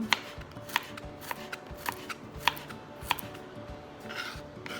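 A knife slices garlic into rounds on a cutting board, giving sharp, evenly spaced chops roughly every half second over a low kitchen background.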